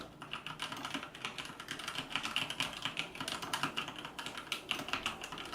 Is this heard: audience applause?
no